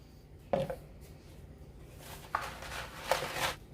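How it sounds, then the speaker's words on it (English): Dry spaghetti strands dropped and scattered into an Instant Pot, giving three short rattling clatters spaced apart, close and fairly soft, with no talking. "Just going to scatter these around in the pot in different directions so that they do not stick together"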